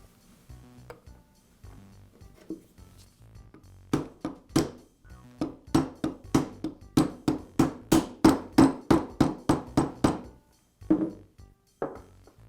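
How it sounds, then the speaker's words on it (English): A bearing tapped into a DeWALT shear gear housing using a socket as a drift, a series of sharp metallic hammer strikes speeding into a steady rhythm of about twenty close, loud blows. "I'll use another socket to tap it into place"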